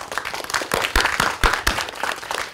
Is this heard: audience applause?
yes